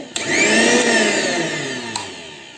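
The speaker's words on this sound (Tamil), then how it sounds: "மிக்ஸி வந்து ரன் ஆகுது" A government-issue kitchen mixer grinder motor, under repair, whirs loudly and steadily after a click, its pitch drifting slightly before a second click near the end.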